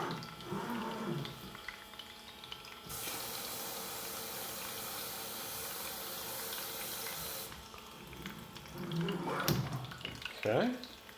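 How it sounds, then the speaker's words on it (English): Water pouring into a small pocket gold sluice, a steady hissing rush in the middle section between quieter trickling and splashing at the start and end. "I think we need to add a little bit more water."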